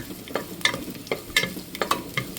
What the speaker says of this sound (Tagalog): Yan, gisa ko na yung bawang.